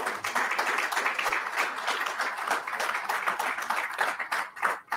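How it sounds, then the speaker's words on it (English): An audience at an Army cyber conference event claps for the event's sponsors, a dense, sustained round of applause from a sizable room that swells and then thins toward the end. "So let's give our two sponsors a big round of applause."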